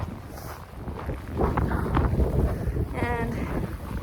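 Gusty wind buffeting the microphone outdoors during a Saturday snow storm, loud rumbling bursts that swell and ease, with a brief voice partway through.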